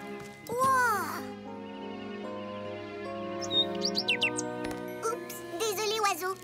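A cartoon bird chirps in a French-dubbed Caillou children's animated episode, with quick high tweets in short bursts over soft background music and tinkling effects.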